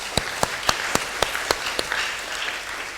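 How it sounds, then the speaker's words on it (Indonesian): A church congregation applauds children being baptized: sharp, evenly spaced claps ring out near the start, then thin into softer scattered clapping. "mari kita beri aplaus"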